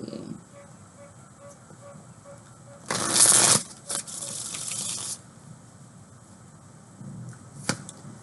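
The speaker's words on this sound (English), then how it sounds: "One more shuffle." A quick, close riffle of tarot cards shuffling, followed by a softer second burst of card handling, with quiet pauses and light tapping around it.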